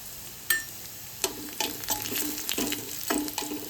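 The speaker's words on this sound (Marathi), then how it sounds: "लसूण आपला छान असा खरपूस झाला की त्यात कढीपत्ता घालूया" Garlic sizzling and frying in hot oil with mustard seeds and cumin for a dal tempering, a steady close crackle broken by several sharp bursts as the pan is stirred; no talking.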